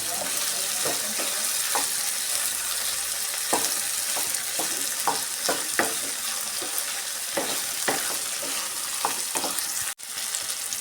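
Onions frying in a pan to cook off their moisture, giving a continuous dense sizzle with repeated rhythmic spatula strokes scraping the pan throughout, close and fairly loud.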